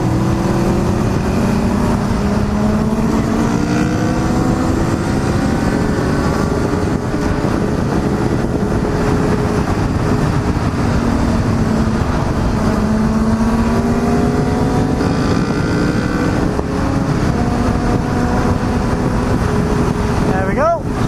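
Motorcycle engine winding up and accelerating to overtake on a road in Wales, a steady loud drone with rising pitch under heavy wind rush throughout.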